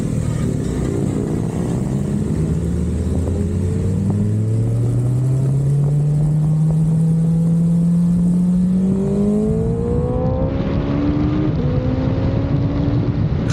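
A Harley-Davidson motorcycle engine rumbles steadily and close, its deep throb rising in pitch as the rider accelerates, with no talking.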